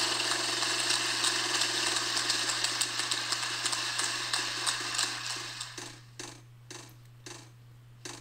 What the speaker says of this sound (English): I get ready to spin the wheel